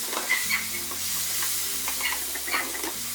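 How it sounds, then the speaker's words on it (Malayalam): Tomato being stirred in a pan just after the lid comes off, for a Kerala egg curry: soft scraping spoon strokes over a steady low sizzle, close and moderately quiet, with no talking. "ഇനി ഇതിൻ്റെ അടപ്പൊന്ന് മാറ്റിയിട്ട് ഇളക്കി കൊടുക്കാം"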